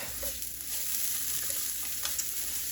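Garlic and vegetables fry with a tablespoon of butter in a jambalaya pot, giving a close, steady sizzle with a few light stirring taps and no talking.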